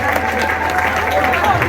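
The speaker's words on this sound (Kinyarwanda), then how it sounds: "duhuze ibiganza dukomere Imana yacu amashyi menshi cyane." Clapping and applause from a wedding gathering, a steady dense patter of many hands that holds even throughout, with voices mixed in beneath it.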